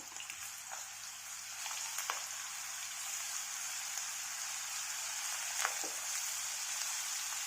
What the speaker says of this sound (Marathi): लसूण आणि जिऱ्याची पेस्ट इथे तयार केली तर ती एक चमचा घालून घेते